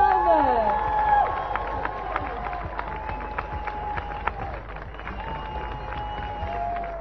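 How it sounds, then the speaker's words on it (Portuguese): Outdoor audience at the live SIC ao Vivo TV broadcast in Vila Nova de Milfontes cheering and applauding after a song, with scattered clapping and shouts under a lingering sustained musical tone, moderately distant. "Abra connosco uma salva de palmas"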